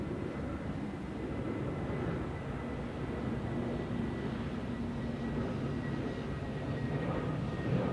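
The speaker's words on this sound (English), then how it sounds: "And next up is a Eurowings A320 from Palma de Mallorca." A Eurowings A320 airliner at Zurich Airport gives a steady, distant low roar of jet engines that holds evenly throughout without any voices.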